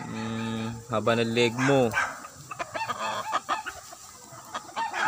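Gamecocks at a rooster farm raised for derby fighting crow loudly and close, one long harmonic crow followed by another, then clucking and scattered squawks, while a person speaks briefly.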